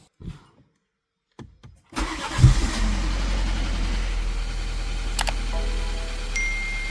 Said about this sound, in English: I'll crank the car and we'll see what will happen